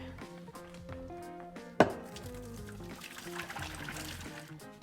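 Boiled pasta water for shrimp scampi is drained from the pot, pouring and trickling close up with a sharp clatter of cookware partway through and soft splashing after.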